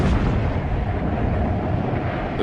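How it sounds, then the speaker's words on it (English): Heavy anti-aircraft fire aimed at low-flying World War I bombers, a dense continuous roar of booming blasts and rumbling bursts, loud and sustained with no clear gaps. "The bombers, flying low to drop their load, came under increasingly heavy anti-aircraft fire."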